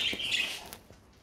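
A show bird gives a brief burst of high, bright chirps, close and fairly clear, followed by a quieter pause with a couple of soft peeps.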